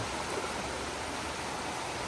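A nearby river flows with a constant, broadband rushing hiss, soft and unchanging throughout, with no voices or other distinct sounds.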